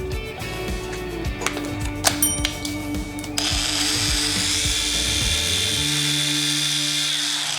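An RBL cordless sander and polisher is handled with several clicks and rattles, then switches on and runs with a steady, close, high-pitched whir to the end.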